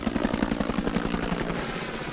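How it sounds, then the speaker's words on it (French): An American military helicopter comes in to land during a lull in combat, its rotor thumping in a steady, rapid beat under a loud, continuous engine roar. "Un hélicoptère profite d'une pause dans le combat pour atterrir"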